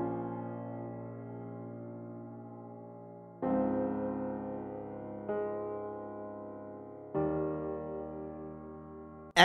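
Sustained synth chords drive a song, each one held for a few seconds before the next swells in, warm and steady with no voices.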